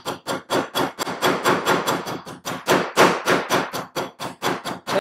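A kitchen meat hammer pounds meat in a steady, loud, rhythmic series of heavy thuds, roughly three or four blows per second, close by with no talk.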